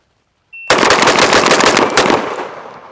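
A loud, very fast burst of roughly eight shotgun blasts from a Mossberg 940 SPX, fired in under two seconds and almost merging into one roar, then ringing off quickly; a faint beep precedes it.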